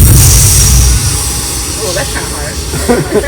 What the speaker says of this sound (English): Yes, this is the sound of a stopping steam train,